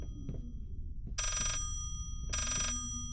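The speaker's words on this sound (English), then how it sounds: "we can't hear over this fucking phone" An old telephone in the game Layers of Fear gives two loud, buzzy rings separated by a short pause, over low eerie ambience.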